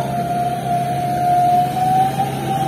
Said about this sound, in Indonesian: knalpot serigala nih teman-teman